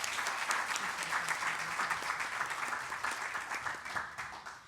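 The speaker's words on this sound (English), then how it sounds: "please give a round of applause for our amazing volunteers" An audience applauds its volunteers at a women's heart symposium, a steady, dense round of clapping that holds for several seconds before slowly easing off.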